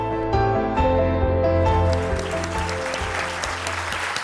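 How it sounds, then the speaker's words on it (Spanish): Applause from an audience at a charity raffle event for a nonprofit foundation in Sonora, a steady wash of clapping with tonal music underneath, fading slightly toward the end. "definitivamente el aplauso es muy merecido"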